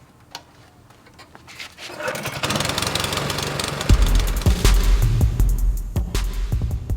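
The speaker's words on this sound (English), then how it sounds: "me adjusting the mower to a depth where I pull out some of the clippings" A lawn scarifier mower runs over Bermudagrass, a steady loud engine drone that starts up after a quiet opening and keeps churning with rattling, thumping clatter from the blades.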